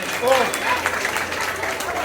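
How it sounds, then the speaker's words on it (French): Pupils, parents and staff at a school report-card ceremony applaud the winners of the spelling and eloquence contests. The clapping is crowded and mid-level, with voices and brief tones mixed in. "Est-ce qu'on peut applaudir pour nos vainqueurs, s'il vous plaît?"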